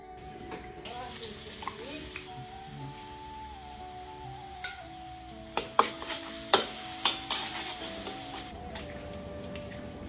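Nasi goreng sizzles as it is stir-fried in a home kitchen pan, a steady fry with a run of sharp spatula clanks and scrapes toward the end, while a voice talks in the background.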